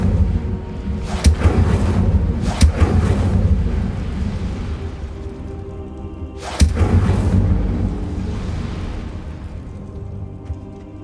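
The Incendio fire spell in Hogwarts Legacy lands as three heavy whooshing bursts, each a sharp thump that swells and then fades, loud and close with no talk.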